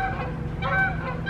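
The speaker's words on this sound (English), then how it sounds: "There's some geese." Several geese honk loudly and close by for a moment at a company headquarters campus, with repeated overlapping calls over a steady low background hum.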